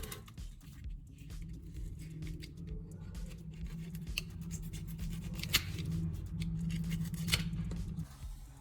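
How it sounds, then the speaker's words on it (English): Scissors cut a piece of real leather to size, with repeated crisp snipping and rustling strokes up close over a low steady background hum, quiet and without talking. "I cut a piece of real leather to fit the wood and press it down firmly."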